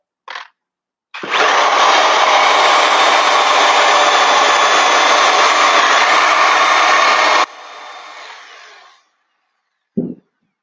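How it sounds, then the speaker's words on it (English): A Sawzall reciprocating saw cuts through foam tire fill for a 10-16.5 tire: a loud, close, continuous buzzing run of about six seconds, then a quieter tail and brief handling knocks at each end. "I went through 10 Sawzall blades in 1 hour."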